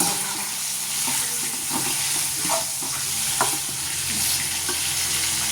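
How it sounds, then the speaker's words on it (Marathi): Brinjal (eggplant) pieces sautéing in a wok give off a steady close sizzle and hiss, with scattered clinks and scrapes of a spatula stirring throughout. "वांगी आपल्याला परतून घ्यायची आहेत मस्तपैकी"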